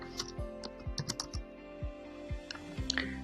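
Steady clicking of keys as code is typed into a MATLAB script on a computer keyboard, close and distinct keystrokes at an irregular pace over a low background hum.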